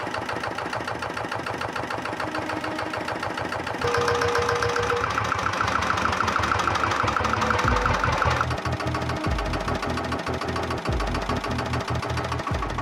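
Vintage Peter PAZ-1 diesel engine running steadily, a loud rhythmic knocking chug that grows heavier partway through, then settles into deeper, uneven low thumps.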